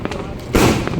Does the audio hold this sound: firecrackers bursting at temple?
yes